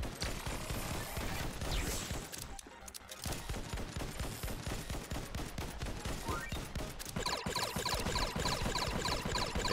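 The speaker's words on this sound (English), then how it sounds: "Okay, so you fire some carrots at me." A boss in the shooter X Invaders fires volleys of carrots, making a dense, rapid crackle of projectile shots that keeps going with a brief lull, heavier toward the end.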